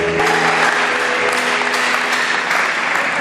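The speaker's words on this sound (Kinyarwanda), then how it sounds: "Please clap for them." Dense, steady applause from a wedding audience cheering the wedding party, loud and close, continuous for the whole stretch with no talk over it.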